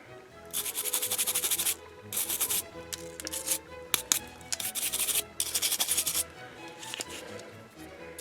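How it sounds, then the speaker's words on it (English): Salt-weathered paint being scratched and rubbed off a terrain model, giving bursts of dry scraping and sanding noise in repeated strokes with short pauses, close and fairly loud. "Scratches the paint."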